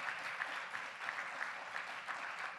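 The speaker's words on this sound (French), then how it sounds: "J'aimerais que vous fassiez une bonne main d'applaudissement pour M. Colin Fournier-Lepage." Applause from a concert audience for a big band performer, a steady wash of many hands clapping at moderate distance, continuous and even throughout.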